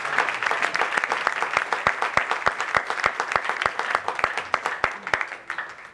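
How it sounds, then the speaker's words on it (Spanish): A church congregation applauding, a dense run of many hands clapping with some sharp claps standing out, moderately loud, fading toward the end. "Denle un fuerte aplauso al Señor y gloria a Dios."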